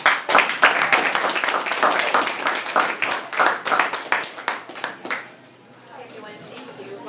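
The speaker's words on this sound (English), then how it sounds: "So please give her a big round of applause." An audience at a live talk event claps in a dense burst of applause that fades out after about five seconds, followed by quieter room sound and faint voices.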